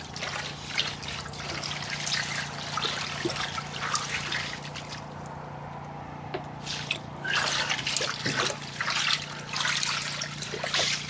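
Lettuce being swished and agitated by hand in a sink filled right to the brim with water at a greenhouse wash station, giving a steady trickling, dripping and sloshing wash with no voices.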